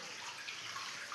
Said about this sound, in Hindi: पानी आ रहा है अंदर से।